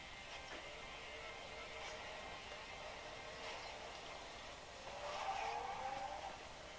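Racing game on a Kindle Fire HDX 8.9 tablet: steady engine drone with tire squeals and skids, quiet and thin-sounding, rising slightly near the end.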